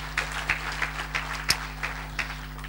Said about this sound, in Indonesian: Berikan tepuk tangan ya buat Tuhan Yesus